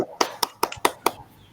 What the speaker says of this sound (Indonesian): Ayo tepuk tangan untuk kelompok 2.